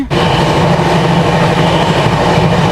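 A passenger train on a long overnight journey toward Agra rumbles along the tracks, heard from inside the coach as a loud, continuous low roar with steady rhythmic wheel clatter.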